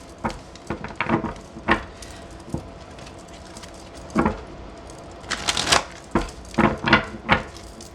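A deck of tarot cards is shuffled by hand in irregular bursts of riffling, flapping and slapping, some loud and close, with quieter gaps between them.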